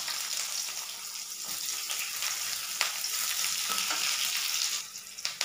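Onions fry in hot oil with cumin seeds, giving a continuous close, loud sizzle with brief stirring scrapes. No voices are heard.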